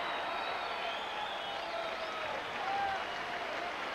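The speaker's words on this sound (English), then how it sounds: "Crowd showing its appreciation here at the Las Vegas Hilton" A boxing crowd at the Las Vegas Hilton applauds after a round in a brawl between Julio Cesar Chavez and Tony Martin, giving a steady, fairly distant roar of clapping and crowd noise.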